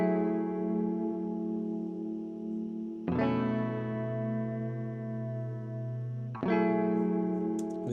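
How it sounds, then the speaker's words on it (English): A Telecaster electric guitar on a clean tone strums sustained chords in a neo soul style, three ringing chord changes each struck cleanly and left to sustain, with no talking. "Okay, so I got the chords and they sound like this."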